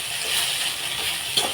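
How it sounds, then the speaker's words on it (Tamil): Okra with salt is sautéed in a new clay pot for a tamarind gravy, giving a close, steady sizzle with a brief stirring scrape near the end and no speech. "நல்லா வெண்டைக்காய் சேர்ந்து வர வரைக்கும் வதக்கிக்கலாம்"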